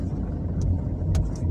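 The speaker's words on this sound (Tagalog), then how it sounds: "Traffic." Steady low rumble of road traffic at Camp 7 on Kennon Road, with a continuous car engine drone and brief passing hiss, moderately loud and constant.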